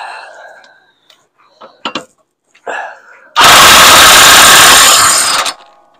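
Impact gun on a lawn mower during maintenance, one loud sustained rattling burst of about two seconds, close, after a few short clanks and brief speech.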